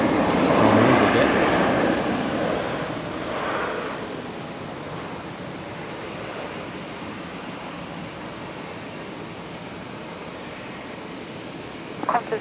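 A Qantas airliner at Brisbane Airport sends out a steady, broad jet roar that is loudest in the opening seconds, then settles to a sustained rumble, with a few brief sharp clicks right at the end.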